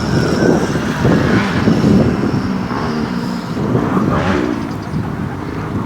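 A WLTOYS 184016 small RC car racing at high speed, its electric motor whine and tyre rumble loud and continuous with rough, gusty noise throughout.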